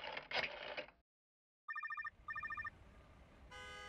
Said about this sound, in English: So, I dialed Shifty